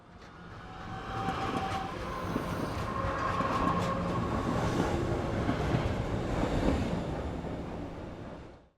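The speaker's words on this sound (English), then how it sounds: "imagine the sound of a train coming into a station." A train rumbles into a station with a loud, continuous roar and rattle of wheels on rail, a brief squeal early on, then fading as it slows.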